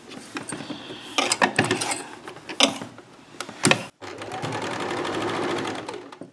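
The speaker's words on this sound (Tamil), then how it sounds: "இந்த ஓரத்துக்கு எஜ்ஜில் ஒரு தையல் போட்டு வரப்போம்." A sewing machine stitches along the edge of a sleeve, first in stop-start bursts with clicks and clatter, then a steady, close whirring run after a brief pause.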